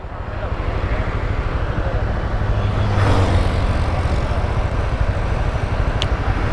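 A CFMoto 300SR 300cc motorcycle engine revs on the throttle. It gives a continuous close rumble that swells briefly in the middle, with no talking.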